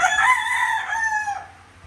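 A rooster crows once at a backyard chicken coop, a loud, close cock-a-doodle-doo with a long drawn-out final note that fades away.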